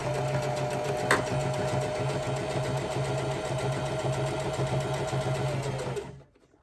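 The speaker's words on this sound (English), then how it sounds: "And then I'm just gonna sew straight all the way along." Sewing machine running a long continuous straight seam along a ribbon skirt, a steady whirring drone close to the mic that stops near the end.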